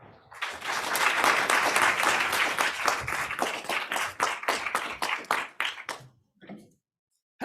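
Audience applause welcoming a law professor to the lecture podium, loud sustained clapping from a crowd in a hall that thins into scattered claps and fades out near the end.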